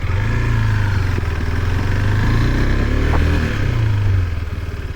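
A 2024 KTM RC390 sport motorcycle engine runs loud and close, its steady throbbing rumble rising briefly and then easing off.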